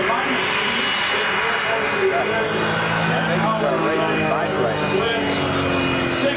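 Racing jet aircraft engine at the Reno Air Races, a loud continuous roar with afterburners, heard steadily throughout under an announcer talking over a public address.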